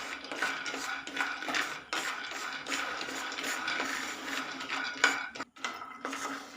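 Raw peanuts dry-roasting in a pan while being stirred, giving steady close scraping and rattling of the nuts against the metal with a few sharper clinks, and no talking.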